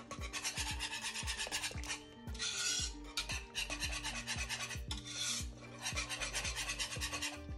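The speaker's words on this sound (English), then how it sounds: "every 5 minutes, you check on it and whisk" A whisk rasps against a pot of Jamaican cornmeal porridge, a fast, steady scraping rhythm with brief pauses, close and clear with no talking.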